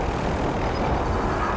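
A helicopter in a video game shooter drones loudly and steadily as a dense, continuous engine and rotor roar, heard alone and close.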